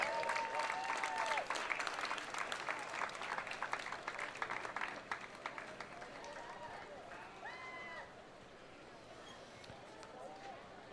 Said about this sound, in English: Another round of applause, everyone, to the Valley of the Mist Quilt Guild.